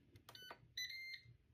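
A Ninja Dual air fryer powering on gives a short melodic string of electronic beeps, a few quick tones followed by a longer held chime, clear and close in a quiet room.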